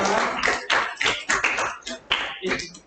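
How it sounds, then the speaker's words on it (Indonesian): Applause in a classroom, a close, uneven burst of clapping from a small group of students, with separate loud claps landing in a loose, irregular rhythm for a few seconds and voices mixed in. "Tepuk tangan."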